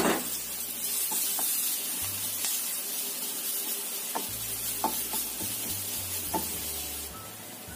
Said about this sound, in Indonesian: masukkan daun bawangnya, kita tumis sebentar